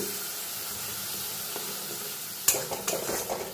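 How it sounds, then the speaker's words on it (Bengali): Thick spice paste sautéing in hot oil for aloo paneer, a steady low sizzle with a few louder stirring scrapes and bursts near the end. "দেখুন মশলাটা আমার প্রায় কষানো হয়ে গেছে, চারপাশ থেকে তেল রিলিজ করা শুরু করে দিয়েছে।"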